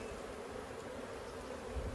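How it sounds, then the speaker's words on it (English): Crowded honey bees piling up inside an opened hive, a faint, steady buzzing drone that carries on without break for the whole two seconds. "All the bees are starting to pile up on this side because they have nowhere else to go."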